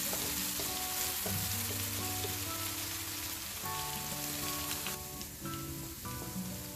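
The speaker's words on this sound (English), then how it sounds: "Now as the paste is getting cooked" Masala paste for Gujarati undhiyu cooks in a pan with a steady soft sizzle and crackle, while quiet background music plays over it.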